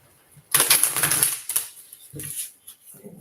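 Tarot cards riffled and shuffled by hand, a burst of crisp papery flutters followed by a few shorter card slaps and rustles, close and fairly loud, with a voice briefly heard.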